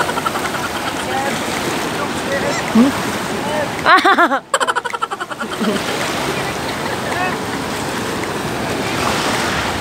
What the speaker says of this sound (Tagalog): Ang umaagos na tubig.